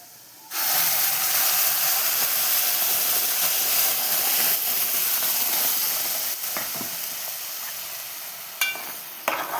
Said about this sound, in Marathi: मी आता हे वाटप ओतते.